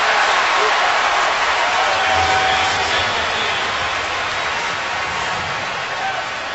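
A football stadium crowd roars after a defensive stop on third and 24 in a Bears versus Ravens game, a loud broad wash of cheering that slowly eases off.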